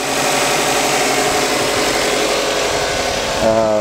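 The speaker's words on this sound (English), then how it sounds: "you can kind of hear the motor. Like it's running a little smoother." A sports car engine fed with an HHO hydrogen cell runs steadily at close range, a smooth, even drone with no breaks, picking up slightly louder near the end.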